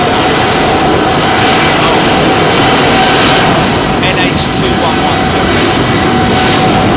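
An ANA Boeing 787-9 in R2-D2 livery departs Heathrow's runway 27R, its jet engines a loud, close, broadband roar that fills the whole stretch, with a voice heard briefly over it.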